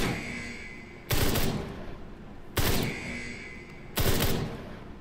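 Gunfire in the video game Ride to Hell: Retribution, three loud bursts of rapid shots at regular intervals, each lasting about half a second, over a quiet background hum.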